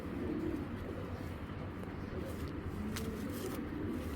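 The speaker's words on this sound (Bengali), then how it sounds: "হেভি শক্তিশালী একটা কবুতর" A strong Giribaz pigeon coos in low, steady murmurs that run continuously close to the microphone, with faint traffic or background noise underneath.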